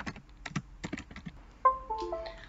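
Several crisp computer keyboard clicks tapped in a short uneven run, quiet and close, followed by a brief soft electronic tone.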